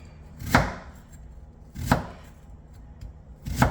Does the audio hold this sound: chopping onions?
yes